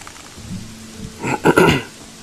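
Rain falls in the game Gothic 3 as a steady soft hiss, broken midway by a louder, brief rumbling swell before easing back to the even patter.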